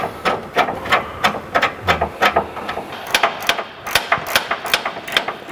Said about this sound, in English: 18mm socket. Remove this outer bolt here on the frame to install the last of the rear brackets.